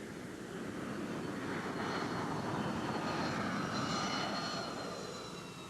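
A T-45 jet trainer's engine roars in flight as a steady, broad rushing drone with a faint whine above it, swelling slightly toward the middle and easing off at the end.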